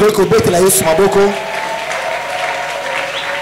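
A church congregation bursts into applause and cheering for Jesus, with a loud voice over the clapping at first, then the clapping settles into a steady sustained patter from a large crowd.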